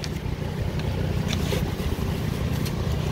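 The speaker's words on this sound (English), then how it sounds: "So we have our fan over here." A steady whirring fan inside an opened Girard 2 tankless water heater runs continuously at an even level, with a low hum beneath a broad, airy rush.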